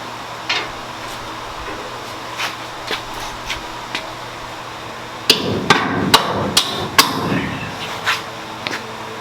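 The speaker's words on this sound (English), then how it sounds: "Almost that needs a hammer." Metal hammer strikes on the CalTracs rear suspension of a turbo LS C10 pickup ring out, a few spaced blows at first, then a quicker burst of several sharp clanks, close by.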